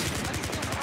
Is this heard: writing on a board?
no